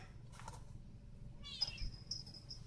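A cat meows faintly and intermittently in a quiet room where a carburetor is being rebuilt, with a short call early on and a drawn-out, higher cry near the end.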